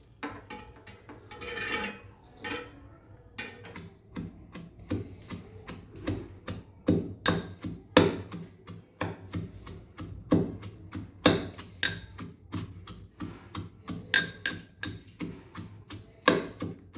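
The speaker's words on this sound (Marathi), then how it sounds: "आता ह्याचा मी ठेचा बनवून घेते." Fried green chilies and garlic are pounded into thecha: a long run of sharp, rhythmic knocks and thuds, close and moderately loud, with brief pauses between bursts.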